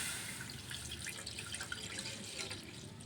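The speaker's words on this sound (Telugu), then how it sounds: "దీంట్లోకి 1/2 లీటర్ పాలు యాడ్ చేసుకున్నాను" Half a litre of milk pours into a kadai in a steady, close liquid stream with a continuous splashing gurgle throughout, no voices present.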